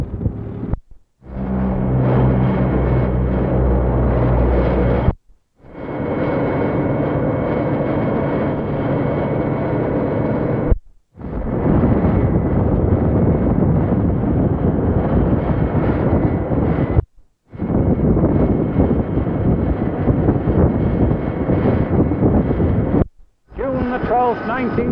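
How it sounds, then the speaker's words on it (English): British Airways Trident jet airliner engines starting up at an airfield, a loud, roaring, wind-blown rush that continues in long stretches broken by short gaps. "if you can hear the above the noise of a British Airways Trident starting up"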